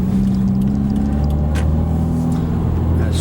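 A 2016 Subaru WRX exhaust rumbles during a heel-toe downshift, a steady, loud low drone with a brief rise as revs are matched, heard close from inside the car.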